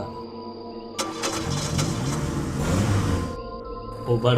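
A truck engine turns over and roars to life, loud and rumbling for a few seconds before settling down.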